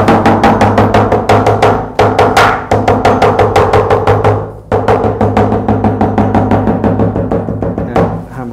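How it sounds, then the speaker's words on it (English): Rapid hammering on glued leather layers for a MacBook cover, dense rhythmic strikes in quick bursts with brief pauses, loud and close throughout. "Yeah, hammer all the way along."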